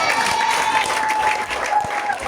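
A crowd claps steadily and densely through the whole short stretch at an evenly loud level, like an audience cheering at a gathering or rally.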